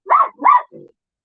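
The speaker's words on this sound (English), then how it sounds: "there's my dog barking." A pet dog gives two loud, close barks in quick succession, followed by a softer short grumble, then silence.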